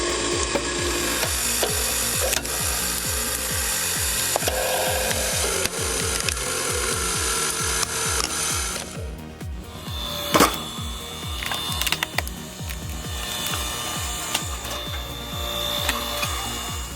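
A wood splitter works through small logs, a steady run of rhythmic woody knocks and grinding for about nine seconds, then a sharp crack followed by quieter creaking and rubbing.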